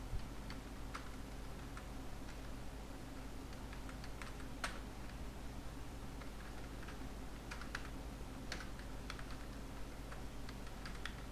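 Computer keyboard keys being pressed while working in MS Word, a steady run of light close clicks and taps scattered irregularly over a constant background hum, with no talking.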